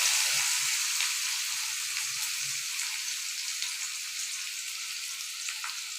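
Potatoes dropped into hot oil in a wok sizzle with a loud, dense hiss that starts strong and eases slightly over several seconds, close and steady without speech.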